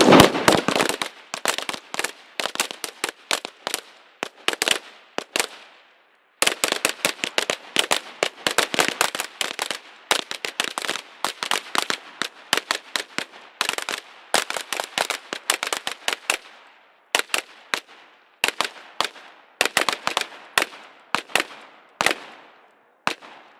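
Rapid carbine gunfire on an outdoor range during a shooting class drill, sharp loud shots in dense strings and irregular bursts with brief pauses, continuing steadily for over twenty seconds.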